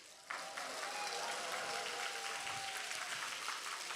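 An audience breaks into sustained applause that starts suddenly and holds a dense, even wash of clapping until the end, moderately distant.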